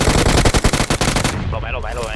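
Rapid automatic gunfire from the PUBG video game rattles loud and close in a fast burst of about a dozen shots, then stops as a voice speaks over a fading tail.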